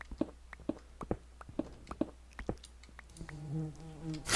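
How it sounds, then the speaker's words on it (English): A bee in Minecraft buzzes among a series of soft, evenly spaced clicks or steps, and the buzz grows steadier and nearer toward the end. "That's a real bee."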